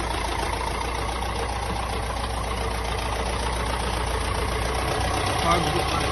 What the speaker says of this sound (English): engine bay here, kicking away nicely. It's still slightly unsure, not fully warmed up yet.